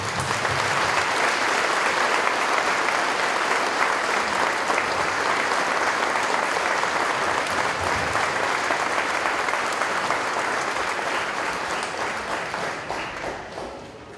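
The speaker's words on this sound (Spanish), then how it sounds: "Un aplauso a la fe del Padre José y a la fe de los sencillos. Un gran aplauso, pues." Dense, sustained audience applause honoring parish priests at a church tribute, a loud unbroken wash of many hands clapping that holds steady before tapering off at the end.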